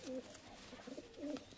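Duma pigeons, a fancy breed, give two low throaty coos, one at the start and one near the end, close by with faint background noise between them.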